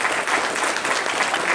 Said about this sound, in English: A round of applause for Sara Mainville.